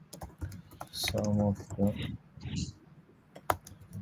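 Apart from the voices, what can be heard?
typing on a computer keyboard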